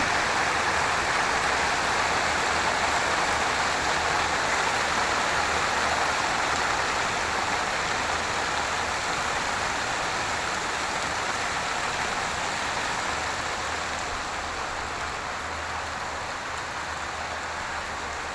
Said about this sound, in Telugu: వర్షం అయితే ఫుల్ వస్తుందండి సౌండ్ ఉంది